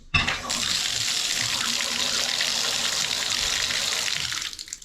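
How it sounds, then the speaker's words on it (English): A cold water faucet opened to nearly full flow, pouring a loud, steady stream that starts suddenly and runs evenly, with no talk over it. "So this is the cold faucet."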